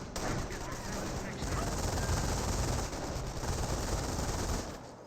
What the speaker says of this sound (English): Rifle squad still being shot by the MG42